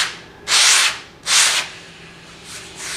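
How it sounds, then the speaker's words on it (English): A sanding block is rubbed along the grain of artificial putting green turf at a seam, giving two loud, close, broadband scraping strokes followed by fainter rubbing. "I can actually just move my sanding block down the grain"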